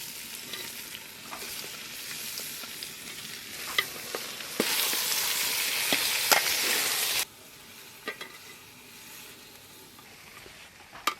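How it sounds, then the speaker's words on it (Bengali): Mutton frying with ginger garlic paste in a pan, a steady close sizzle broken by scraping stirs, with a louder hissing burst in the middle before settling back, no talk. "আদা রসুনের সাথে মাংসটা 10 মিনিট ভেজেছি"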